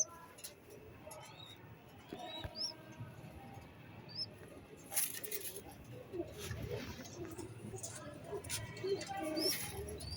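Budapest racing pigeons coo softly in a loft, with faint scattered chirps and fluttering, and a person talking in the background.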